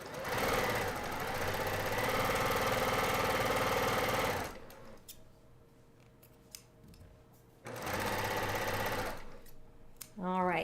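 A sewing machine runs fast stitching a felt gingerbread ornament block, two loud sustained bursts of motor hum and needle clatter separated by a quiet pause with small handling clicks, and a brief voice at the end.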